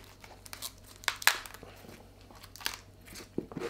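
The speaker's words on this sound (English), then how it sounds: "the only thing we're gonna remove are these excess leaves on the outside" Outer leaves being torn and snapped off a cauliflower head: soft crinkling and crisp crunches come in scattered bursts, with one sharper snap near the middle, fairly close and quiet, with no talking.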